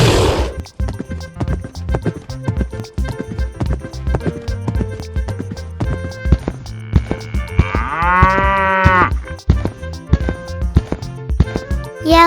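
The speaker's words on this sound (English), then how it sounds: "Yellow cow." A cow moos in a long, loud, drawn-out low call over a rhythmic clip-clop of hooves and other farm animal noises, with steady percussive sounds throughout.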